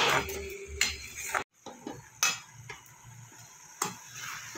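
A metal lid is set onto a cooking pot of vegetarian ash gourd ghonto, giving a few sharp clinks and clatters with a brief silent gap, then lighter scattered taps over a soft kitchen background.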